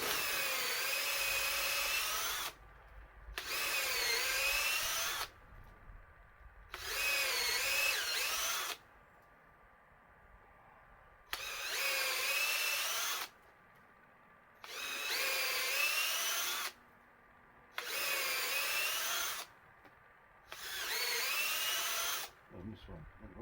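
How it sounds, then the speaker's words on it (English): A power drill whirs into wet wood in repeated bursts of about two seconds each, stopping and restarting several times at close range, with short pauses between runs. "wet wood doesn't drill very well, so you have to keep releasing it"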